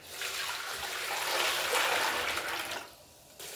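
Water pouring into a cooking pot for Haitian rice with green pigeon peas, a continuous splashing rush that swells and then tapers off near the end, close by and fairly quiet.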